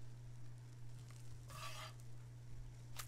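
Pancakes fry in a pan in The Sims 4 with a soft, steady sizzle over a low hum, swelling into a brief louder hiss partway through.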